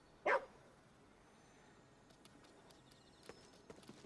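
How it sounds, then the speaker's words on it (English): A single short dog bark from the video game Ghostwire: Tokyo, sounding once near the start and then fading to a quiet game ambience with a few faint clicks. "Seems like they stop barking once you give them food"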